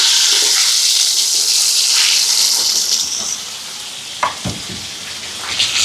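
Curry leaves and small shallots hit hot coconut oil with a loud, bright sizzle that settles into a steadier hiss. A few clinks of stirring come near the end.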